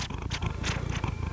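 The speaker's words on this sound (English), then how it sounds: "Are you purring?" A cat purrs close up with a steady, rapid rumble of soft pulsing breaths through a short stretch.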